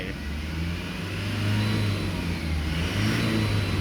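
A car engine revs steadily and loudly, climbing in pitch midway and holding a strong, continuous roar with no voices.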